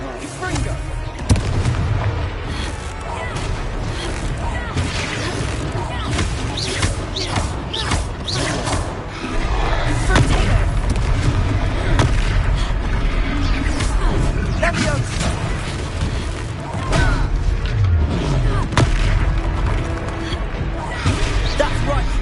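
Confringo spell blasts in a Harry Potter video game burst out as repeated booms and crashing explosions amid dense, continuous action noise, with characters shouting over the chaos.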